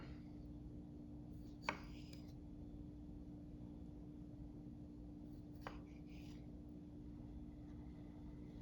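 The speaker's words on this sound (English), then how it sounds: "it slices right through the grape" A Calphalon kitchen knife slices through grapes. Two faint, crisp cutting clicks are spaced a few seconds apart over a quiet background hum.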